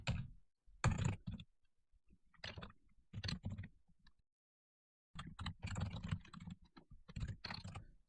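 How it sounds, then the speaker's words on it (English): Someone types on a computer keyboard while configuring a Linux DHCP server. Bursts of close keystroke clicks come in irregular clusters, with a short quiet pause midway, and no talking. "So to do that, I'm going to just type a comment."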